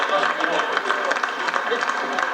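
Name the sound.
audience applause for Henri Krasucki on a TV show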